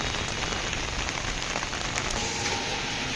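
Rain falls at night in a dense, steady patter on surfaces, loud and close, with no voices.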